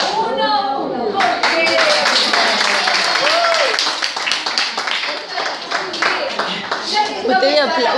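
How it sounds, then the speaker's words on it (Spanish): A group in an exercise session bursts into loud, dense clapping that runs for several seconds, while voices shout and chatter over the applause. "Usted aplauda."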